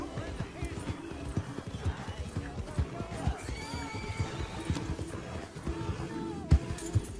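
Horse in the Western game Red Dead Redemption 2 galloping with rapid rhythmic hoof clops close by and a whinny, over a music and ambience bed, with someone talking over it.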